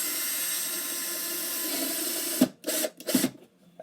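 A power drill drives screws into a subwoofer, whirring steadily for a couple of seconds before a few short bursts as the screw seats, close and fairly quiet, with no talking.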